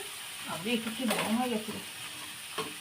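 Green banana, eggplant, potato and lentil bori sizzle in a pan while being stirred with a spatula for a pointed gourd leaf chorchori, a close, soft frying hiss with scraping under a voice speaking.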